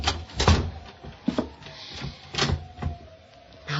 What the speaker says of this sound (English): I pushed her body into the closet next to the body of Mr. Field and closed the door.